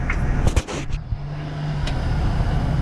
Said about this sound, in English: I want you to put it in high range four-wheel drive. Back up real easy.